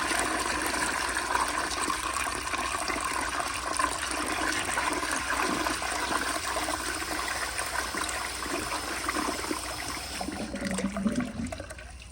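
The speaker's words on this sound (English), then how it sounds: "So here is another flush with the pressure turned down just a little bit." A 1951 Crane Neuday toilet on a flushometer with the water pressure turned down slightly: a steady, rushing flush that runs for about ten seconds, then shifts to a lower gurgle and cuts off abruptly near the end.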